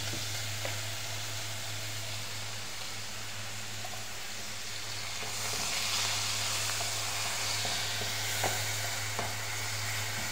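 Oil sizzling steadily in a pan while fish cooks, a constant frying hiss with a low hum underneath and occasional small pops and clicks, no talking.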